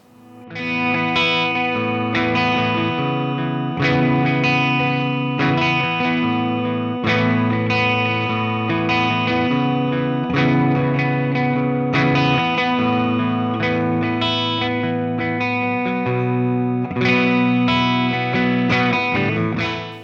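Electric guitar, an Epiphone Joe Bonamassa 1959 Les Paul Custom played through Tone X, with a distorted, chorus-tinged amp tone, strummed chords and ringing notes continuing steadily with no talking.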